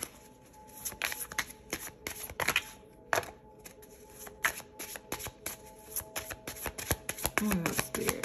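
Tarot cards are shuffled close by in quick bursts of crisp riffling and flicking, with short pauses between, faint and soft overall.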